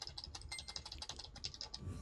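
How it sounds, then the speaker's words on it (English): A computer keyboard is hammered rapidly during PC gaming, a fast, even stream of sharp clicking keystrokes, close and fairly quiet, with no voice over it. "I'm jamming the shit out of my keyboard, and that's the speed it's stuck at."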